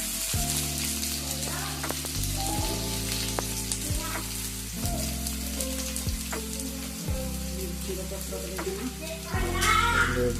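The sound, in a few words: onion frying with mustard seeds in hot oil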